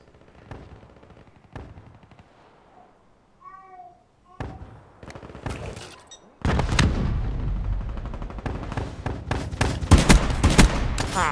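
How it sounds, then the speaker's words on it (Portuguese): Shotgun blasts in the Black Ops 3 video game ring out as sharp isolated cracks, then give way to a dense, loud burst of rapid gunfire and explosions during a chaotic firefight. "o cara tomou dois tiros de 12"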